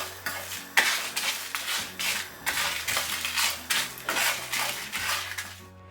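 Cumin, coriander seeds and dried red chillies being dry-roasted and stirred in a hot pan, with rhythmic scraping and rattling of the spices against the metal, close and fairly loud.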